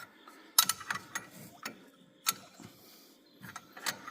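A ratcheting wrench being cranked to push brake caliper pistons back on a 2023 Chevy Colorado ZR2, with several short clicking bursts spaced irregularly at close range.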